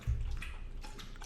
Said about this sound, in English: sound is my dog drinking his water